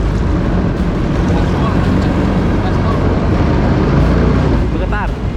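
A jet ski engine revs steadily with loud broadband wind and water noise over the whole stretch, its motor snagged on floating rubbish off Balikpapan, with a brief rising whine near the end.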